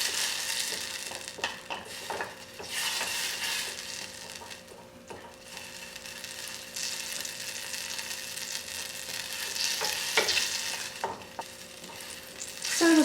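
A spoon scrapes and stirs melting caramels in a pot on a medium-low burner for pumpkin chocolate caramel pie, a steady close rubbing and swishing with a light sizzle and occasional soft taps against the pot.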